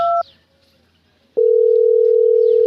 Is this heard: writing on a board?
no